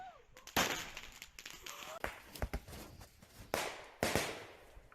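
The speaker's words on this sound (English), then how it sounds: "That looks like they like set off every firework at once." Fireworks going off on the ground instead of in the air, a series of sharp, irregular cracks and bangs with crackling bursts between them, some of them close and loud.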